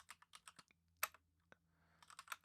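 Keys clatter on a computer keyboard in quick, irregular bursts of crisp taps, close and quiet, with a short pause midway before another flurry of typing.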